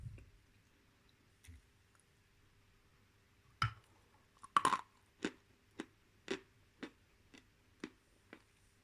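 Slow, muffled chewing of Bashkir clay with a series of soft, dull, regular crunches close to the mouth, about one every half second, in an otherwise quiet room.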